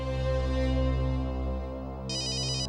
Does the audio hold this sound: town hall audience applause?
no